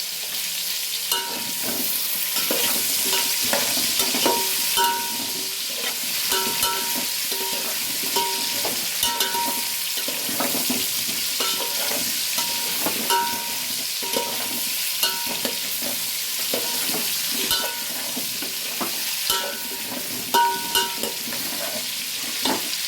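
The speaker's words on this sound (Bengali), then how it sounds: "এটা একটু ভাজা ভাজা হোক" Small potatoes fry in hot oil with a steady bright sizzle, while a spatula scrapes and stirs the pan in repeated rhythmic strokes over about twenty seconds, close by and without talk.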